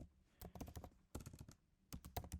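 Quick bursts of typing on a computer keyboard while writing Laravel API code, with close, soft clicking keystrokes in three short flurries separated by brief pauses.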